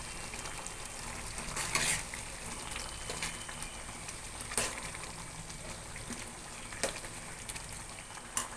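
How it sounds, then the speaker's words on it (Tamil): Snake gourd gravy frying and sizzling steadily in a pan as a green chili is stirred in, with a few sharper spatters and stirring clatters over the constant hiss. "இந்த ஸ்டேஜில் நான் ஒரு பச்சை மிளகாய் சேர்க்குறேன்."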